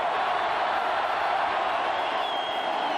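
A big football stadium crowd roars steadily through a Miami versus Florida State college game, a dense, loud, continuous wall of cheering with no break.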